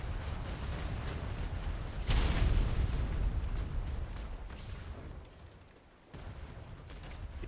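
Sustained gunfire rattles through a naval combat video game, with continuous booming bursts and a louder barrage partway through that dips briefly before firing resumes.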